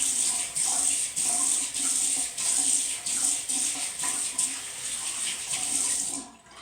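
Steady running water from a bathroom sink tap, loud and close, with a continuous hiss and small splashing fluctuations as a bowl is rinsed and the basin cleaned, ending abruptly.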